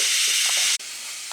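Steam rushes from an Instant Pot pressure cooker being released after cooking pork, a loud continuous hiss with a brief break partway through before it resumes.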